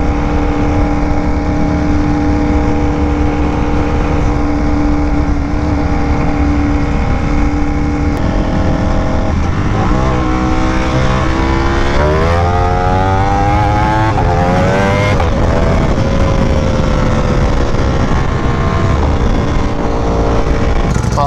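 A Ducati Panigale V4R motorcycle's engine runs loud and close throughout, with a steady rattling dry clutch beneath it and several rising and falling revs in the middle stretch.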